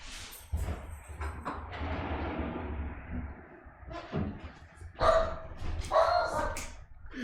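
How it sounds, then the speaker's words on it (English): A dog barks indoors several times in short bursts near the microphone, with some whimpering and yips between barks, and a voice talks faintly in the background. "Excuse the dog."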